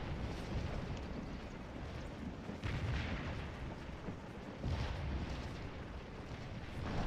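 Continuous distant battlefield din of artillery and musket gunfire in the Scourge of War video game, a dense rumbling wash with repeated dull booms swelling at intervals.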